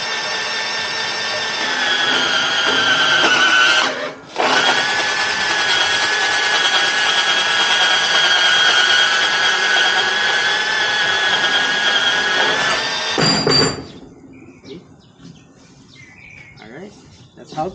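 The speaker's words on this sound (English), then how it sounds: "that's how to cut your conduit pipe using a bandsaw" A cordless Makita band saw cuts through metal conduit pipe, a loud steady whining buzz for about thirteen seconds with a brief dip near four seconds, then the blade stops and quiet handling noise follows.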